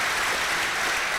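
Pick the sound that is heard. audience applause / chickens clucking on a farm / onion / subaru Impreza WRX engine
audience applause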